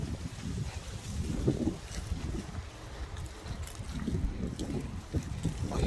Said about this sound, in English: Well, it's definitely windy out here.